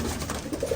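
Teddy and golden pigeons give soft, low coos close by, a few short murmuring calls over a steady background hum, with no talking.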